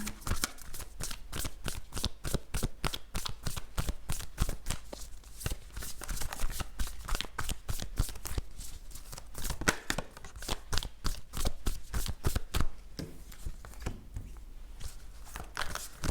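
Oracle cards, a Moon deck, being shuffled by hand in a quiet room, a long run of rapid close riffling and flicking strokes in uneven bursts, with no talking.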